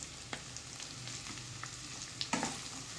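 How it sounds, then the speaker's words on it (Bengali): Onion and carrot frying and being stirred in a pan for chicken pasta, a steady close sizzle with a few sharp utensil scrapes and clinks, no talking. "গাজরটাকে দিয়ে একটু নেড়ে চেড়ে নেব।"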